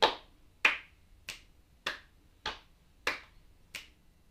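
Sharp hand claps in a steady rhythm, seven evenly spaced strikes about two thirds of a second apart, crisp and close with no talking between them.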